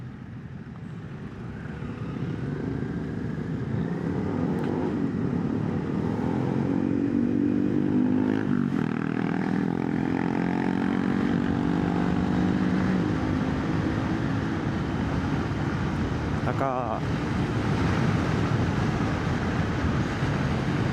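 A Honda CB650R E-Clutch motorcycle cruises through traffic, with a continuous engine drone and wind rumble. Faint rising and falling engine tones drift through the sustained noise.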